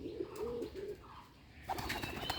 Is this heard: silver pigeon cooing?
yes